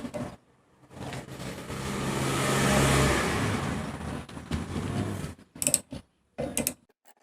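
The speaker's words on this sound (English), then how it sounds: "So let's open the bolt with 14 mm socket." Ratchet with a 14 mm socket loosening a bolt on a Kia K3 during wiper cowl panel removal, a drawn-out rolling mechanical clatter that swells and fades, then several short sharp ratcheting bursts near the end.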